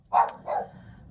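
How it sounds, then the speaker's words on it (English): A dog gives two quick barks, the first louder than the second, at moderate distance in an otherwise quiet indoor setting. "and the dog has started again"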